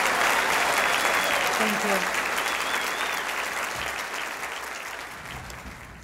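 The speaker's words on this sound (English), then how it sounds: "one final applause for our Tartan and our North Star students" Sustained audience applause fills a banquet hall, loud and dense at first and slowly tapering off, with a brief spoken thanks over the clapping.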